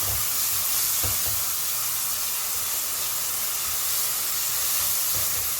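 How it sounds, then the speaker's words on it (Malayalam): Two finely chopped onions sizzle in hot oil in a pressure cooker, a steady broad hiss of frying with occasional low clunks of the pot, with no talking. "എണ്ണ ചൂടായതിന് ശേഷം 2 സവാള ഇതേപോലെ ചെറുതായിട്ട് അരിഞ്ഞത് ചേർത്ത് കൊടുക്കുകയാണ്"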